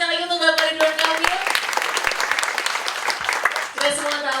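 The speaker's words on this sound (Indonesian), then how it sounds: "tepuk tangan sekali lagi untuk Bapak Ridwan Kamil." Applause from the audience at a launch event, brief clapping under and between an amplified host's voice as he calls for more, with the speaking dominating the start and end.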